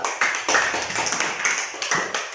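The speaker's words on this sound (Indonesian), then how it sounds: "Tepuk tangan dulu." Children in a classroom clap their hands together in a quick, uneven burst of sharp, close claps lasting a couple of seconds, with no talking over it.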